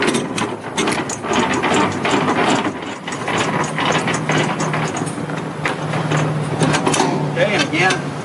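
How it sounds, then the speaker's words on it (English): The landing gear of an empty trailer is cranked down by hand, giving a continuous close mechanical ratcheting and grinding of gears, with a voice talking partway through. "we want to take it on the high side, roll the landing gear down"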